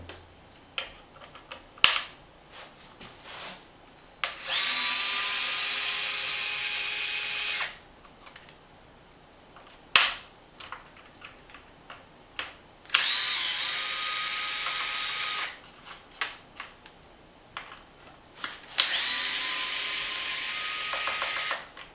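Screws being backed out of a Traxxas Xmaxx front shock tower with a power driver, in repeated whirring bursts a few seconds long, close up, with light clicks between them and no talk.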